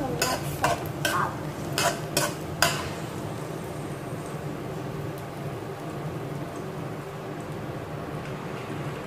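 Chicken afritada being stirred in a frying pan, with a series of close, quick scraping strokes in the first few seconds over a steady low sizzle that carries on alone.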